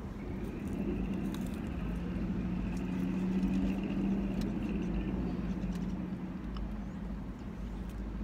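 Cars roll past on a road in a steady stream, a continuous low traffic rumble with a faint engine hum and occasional distant birds.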